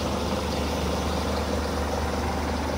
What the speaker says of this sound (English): Euro 6 Scania engine.